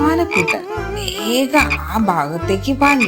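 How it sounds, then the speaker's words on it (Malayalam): A frog croaks in deep, rhythmic bursts, four of them, loud and close, while a voice narrates over them. "തവള കരയുന്നിടത്ത്"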